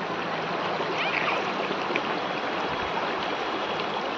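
River water flowing at the Athani river, a steady close babble and trickle of a stream running over stones, constant and fairly loud with no talking.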